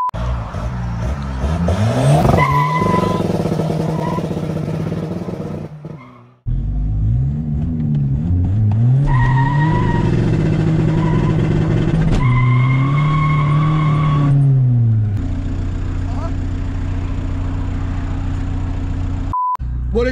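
A SEAT Ibiza 6L 1.9 TDI diesel driven hard, with loud engine revving through rising gear pulls and sustained tire squeals, a brief cut near the middle, heard from inside the car.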